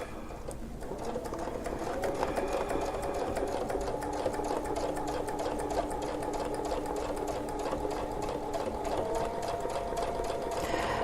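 A sewing machine quilts around a circular template, running steadily and close for most of the clip with a continuous whirring hum and rapid stitch rhythm, easing off near the end.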